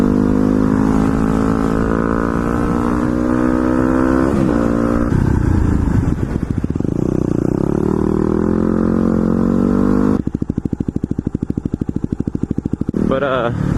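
A motorcycle engine runs steadily on a road, a loud close drone with shifting pitch as it rides and revs, later turning into a choppy rapid pulsing sound near the end.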